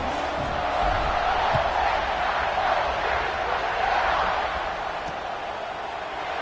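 Stadium crowd at a college football game between Minnesota and Ohio State roaring before kickoff, a dense, sustained wall of cheering that holds steady throughout and eases slightly near the end.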